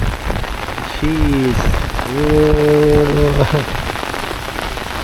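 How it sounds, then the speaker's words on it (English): Heavy rain pours steadily in Puerto del Carmen, Lanzarote during severe weather, a dense close hiss of water on surfaces, with a brief spoken exclamation over it. "You see the live rain pouring."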